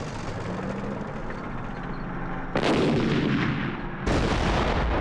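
Artillery fire in 1967 Six Day War footage: loud, booming blasts over a steady rumbling background, with two heavy sustained detonations in quick succession near the end.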